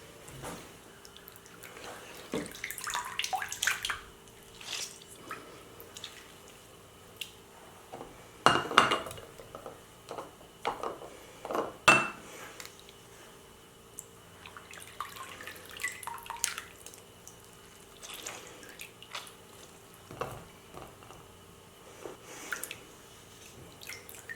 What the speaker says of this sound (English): we're going to squeeze all the moisture out of this and get these packed into jars